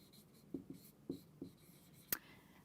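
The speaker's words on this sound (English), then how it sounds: "Let me write that down." A pen writes on paper by hand, making a few soft, close scratching strokes and light taps, quiet and isolated with no talking.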